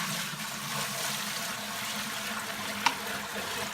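Dirty freshwater aquarium water is poured into a sink, a steady rushing, splashing wash of running water close by, continuous throughout with one small knock near the end and no speech.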